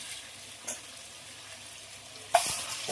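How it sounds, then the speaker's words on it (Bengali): Chicken being stirred with cashew paste in a frying pan gives two short scraping stirs, one near the start and a louder one near the end, over a faint steady sizzle. "কাজু বাদাম বাটা দিয়ে আবারও খুব ভালো করে নাড়বো।"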